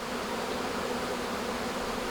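A close, unbroken drone of honey bees buzzing inside a nuc box, even and moderately loud with no other sounds.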